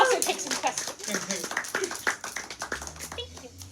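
A small audience at a color magic class claps after the lesson, with scattered, uneven hand claps tapering off, mixed with nearby voices.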